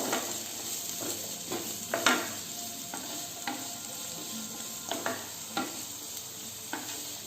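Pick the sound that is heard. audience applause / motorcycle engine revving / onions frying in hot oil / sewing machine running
onions frying in hot oil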